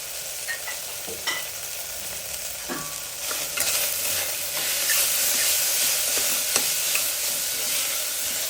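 Food fries in a pan with a steady sizzle and hiss as a utensil scrapes and stirs it, with intermittent taps and clinks against the pan, close up and without talk.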